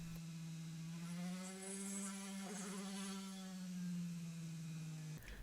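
Small drill boring a 1.5 mm pilot hole into a diecast metal rivet post on a Matchbox Commer van, a steady faint whirring motor tone held for about five seconds, then stopping.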